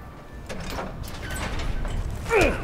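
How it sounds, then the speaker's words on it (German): A door opening in the Battlefield 4 video game: a mechanical sliding swish with soft clunks, ending in a brief rising squeal, heard close over a steady background rumble, with no talking. "öffnen die Tür."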